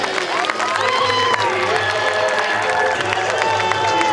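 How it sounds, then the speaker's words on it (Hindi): A lively alumni event crowd claps and cheers together, with overlapping shouts and chatter in a busy, reverberant space. "सभी कलाकारों के लिए जोरदार तालियां हो जाए।"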